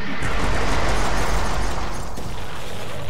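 A loud, sustained rumbling explosion fills the air as rocket tanks destroy an enemy tank in the strategy game Battle Worlds: Kronos, a dense roaring burst that slowly thins out over a few seconds with no talking.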